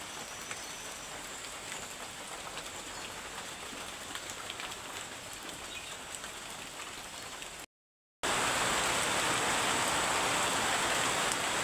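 Steady rain falls around an old house during yard cleanup, a continuous hiss of drops on surfaces that swells louder after a brief break.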